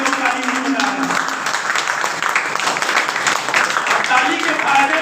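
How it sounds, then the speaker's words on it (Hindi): An audience gives dense, sustained applause to welcome a speaker at an indoor gathering, a loud, continuous wash of many hands clapping with a voice faintly underneath. "उनको एक जानदार और शानदार तालियों से वेलकम करेंगे"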